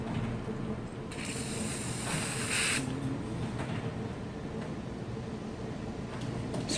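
Hairspray sprayed onto an updo hairstyle: a single hissing burst of about a second and a half, rising over a steady background noise and then cutting off.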